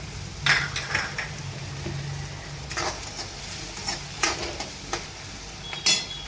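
Chilies and tomatoes sauté in a pan for a leafy bhaji, giving a steady close sizzle broken by scraping stirs and clinks of a utensil against the pan.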